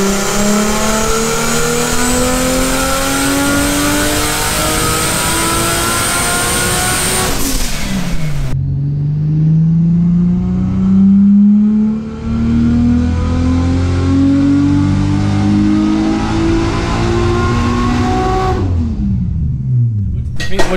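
A tuned Skyline R33 with a G4+ Link ECU revs hard on a dyno at over 600 bhp, the engine note climbing in long sweeping pulls with a sharp drop between runs, loud and close, with no talk over it.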